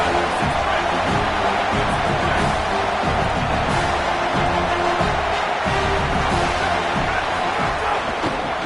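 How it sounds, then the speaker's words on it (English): A stadium crowd at a football game roars in a steady, dense wash of noise that fills the whole stretch without a break. "This crowd ready to make its presence known."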